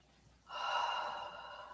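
A single deep inhalation during a yoga session, close and soft. It starts after a brief quiet moment and sustains as an airy, breathy draw.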